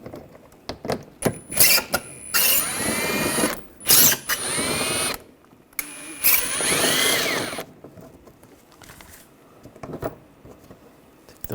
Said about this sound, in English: Take those out, use an 8mm socket.